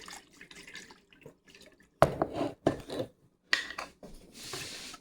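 Water and vinegar slosh in a jar in a few short, separate bursts of splashing, close and moderately loud, with quiet dripping and clinking between shakes.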